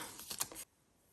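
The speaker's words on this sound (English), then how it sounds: "I'm going to take my punch, my hole punch, and that will work just fine for those." A handheld hole punch bites through paper during journal crafting, giving a short cluster of sharp clicks and a crisp snap, close and quiet, followed by silence.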